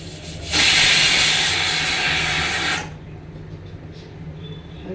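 A pressure cooker full of rice lets off a loud, steady rush of hissing steam for about two seconds, close by, then it cuts off sharply, leaving a low background hum.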